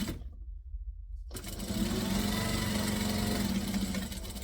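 A sewing machine stitches a half-inch seam at 2.5 stitch length on a fabric organizer, with a steady, close motor hum and rapid needle chatter that fills most of the clip after a brief pause.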